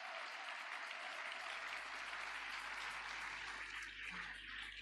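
A church congregation applauds and cheers together, a dense, steady wash of clapping that stays loud and even from start to finish.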